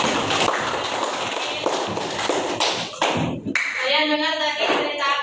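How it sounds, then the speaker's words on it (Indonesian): Schoolchildren in an Indonesian classroom clap after a story about the mouse-deer and the tortoise, sharp uneven claps that break off, followed by voices talking. "beri tepuk tangan dulu Mail."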